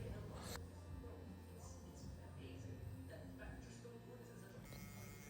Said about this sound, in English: Some clipper over comb work, just refining everything together.